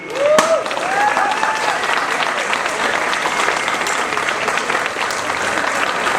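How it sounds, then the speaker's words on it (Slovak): Loud, sustained audience applause from a crowd at a public event, dense steady clapping filling the whole stretch with a brief sharp sound near the start. "Ja si myslím, že si to zaslúži potlesk."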